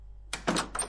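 A door in the Teke Teke Japanese urban legend horror game opens with a short clunk followed by a couple of quick scraping, rattling thuds over a low steady hum.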